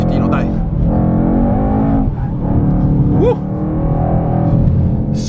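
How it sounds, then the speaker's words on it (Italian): A Mercedes-AMG E 63 S 4matic+ drifts with a loud, close engine revving and rising and falling in pitch, mixed with tire noise, throughout. "Andiamo a farci un driftino, dai."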